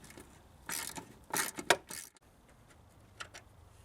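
A ratchet clicks in several quick bursts while unbolting the air-conditioning dryer on a 2002 Jeep Grand Cherokee, followed by a short quiet stretch and one faint final click.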